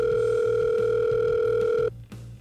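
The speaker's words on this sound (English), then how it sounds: "Okay, let me dial in this number once more. Yep, okay, it's ringing again." A steady two-tone telephone ringing tone plays loud and continuous in a Minecraft game, then cuts off abruptly near the end.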